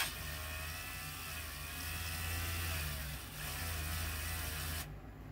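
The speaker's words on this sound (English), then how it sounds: "just drill all the way through." A small drill bores through cured UV resin, a piece for a feather and bead windchime, giving a steady high whine that holds for several seconds before cutting off abruptly near the end.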